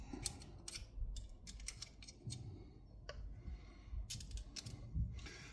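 Front fork part on a Kawasaki Z1000 clicking into place during a fork rebuild, heard as several sharp close clicks and ticks over a low rumbling workshop background, with no talk.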